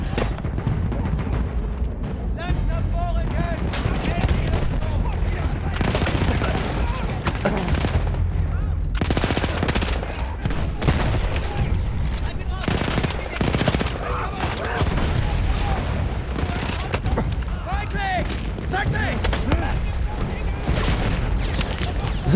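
A trench battle in the video game Seven Pillars of Wisdom keeps up dense, continuous gunfire: overlapping rifle and machine-gun shots and booming blasts fill the whole stretch at steady high loudness, with voices mixed in.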